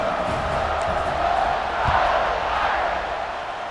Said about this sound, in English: and this crowd now ready to get behind them.